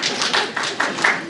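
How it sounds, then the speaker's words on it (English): An audience at a writers' reading gives a dense, continuous round of applause, many hands clapping together in a steady wash of sound. "Let's hear a round of applause for that."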